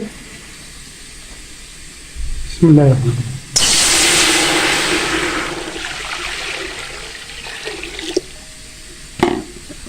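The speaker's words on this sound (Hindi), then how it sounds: "चावलों को उबालने के लिए पतीले को हमने चढ़ा दिया चूल्हे पे। इसमें पानी शामिल करेंगे।" Water gushes steadily from a tap into a cooking pot set on the stove for boiling rice, a loud continuous pour lasting several seconds that fades toward the end, with brief clatters before and after.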